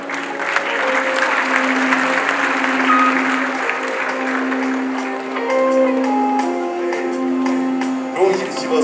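A large crowd at a memorial farewell gathering claps steadily and loudly for the whole stretch, with tonal sounds and a few voices blending into the ovation.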